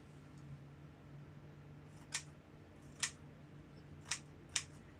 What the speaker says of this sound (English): I need to cut the pockets still.